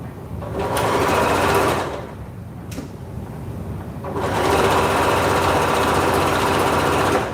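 A sewing machine stitches steadily in loud, continuous bursts, with a brief pause near the middle before the motor runs again; the sound is close and fills the clip without talk.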